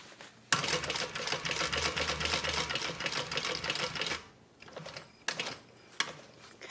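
A sewing machine runs a steady, close seam along the bottom of a range bag for about four seconds. After it stops, a few short clicks and bursts follow.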